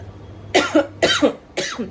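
Three harsh coughs in a row, close and clear, evenly spaced with short pauses between them.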